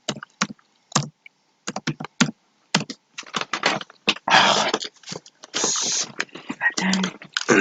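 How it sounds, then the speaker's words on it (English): Bursts of clicking keystrokes on a computer keyboard while entering HTML code, coming in irregular clusters with pauses between them, near and fairly loud, mixed with a few brief low thumps. "between strong I'll type January"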